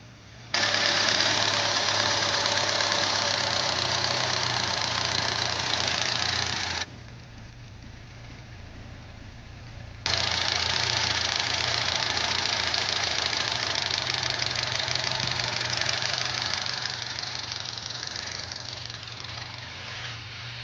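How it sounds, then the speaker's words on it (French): Carburetted engine idling at around 1000 rpm, a steady close mechanical chatter with even rhythm that drops away briefly in the middle, then returns and slowly fades toward the end. "Donc là le ralenti il est à 1000 tours"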